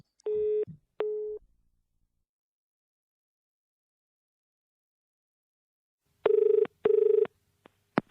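A telephone rings in two loud electronic double bursts, with a long silent gap between the pairs, close and clear, as someone waits for the call to be answered.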